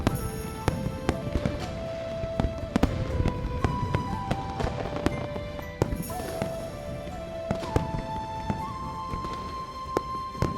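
Fireworks in the video game Love and Deepspace, a continuous wash of crackling bursts and sharp pops, with whistling tones rising over a dense festive din.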